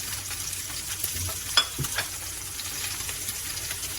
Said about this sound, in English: As you will inevitably get a lot of sputtering. But that is normal as it is in searing any kind of seafood